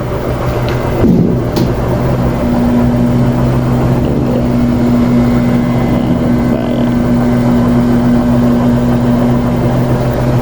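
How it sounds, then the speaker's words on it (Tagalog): Feed mixer blending kids starter feed at a livestock farm, a loud, steady motor drone with a constant hum that runs unbroken throughout. "Ayan po yung mixer natin ng kids starter"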